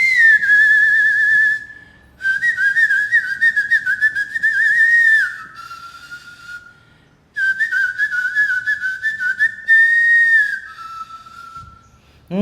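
Whistled melody opening a classic Tamil film song, a clear high tune in long phrases broken by short pauses, with soft accompaniment underneath.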